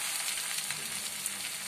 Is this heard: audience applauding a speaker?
no